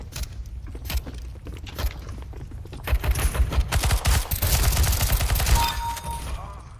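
Bursts of rapid gunfire in Counter-Strike: Global Offensive crackle amid clattering game noise, growing louder midway, with a short tone near the end.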